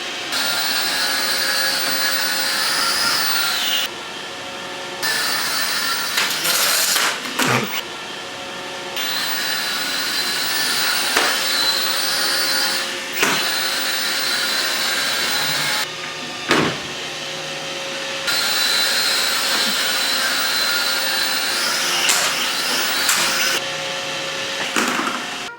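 A Roomba robot vacuum cleaner runs steadily and close by, its motor whirring at a constant level with brief dips and a few knocks as it bumps around, with no talking.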